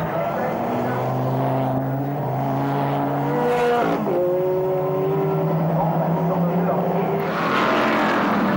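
A GT racing engine, including a Dodge Viper, drones steadily at Nogaro circuit in France with shifting pitch as cars pass, revving up and down at a distance, loud and continuous.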